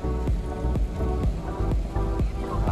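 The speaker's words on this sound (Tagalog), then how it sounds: "Grabe ang ulan." Heavy rain beats down on a surface during travel, loud and continuous with a dense steady patter and recurring heavier drumming impacts, no voices.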